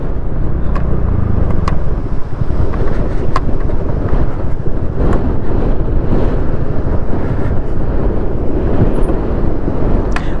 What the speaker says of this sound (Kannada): ಗಾಳಿರ ಭಾಳ ಬಿಟ್ಟದ.